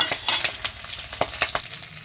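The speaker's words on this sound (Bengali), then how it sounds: "কাতলা মাছের মাথা নিয়ে নিয়েছি ভেজে, কিন্তু ভাজাটা কিন্তু প্রায় হয়ে গেছে" A catla fish head nearly done frying in a pan gives a soft background sizzle broken by quick, irregular scraping stirs, close and without talk.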